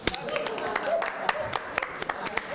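A studio audience claps in scattered, uneven bursts, with sharp individual hand claps standing out from a light background murmur while someone talks over it.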